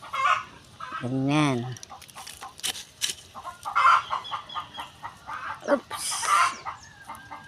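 Farmyard laying hens cluck and squawk close by in scattered bursts, with one drawn-out crowing call early on, while someone speaks briefly between the calls.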